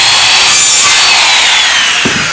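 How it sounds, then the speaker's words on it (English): Rage Evolution power saw cutting through PVC pipe: a loud, close, continuous high-pitched whine of the blade biting the plastic, easing slightly toward the end with a faint thump; no talk. "it cuts through the PVC very, very easy"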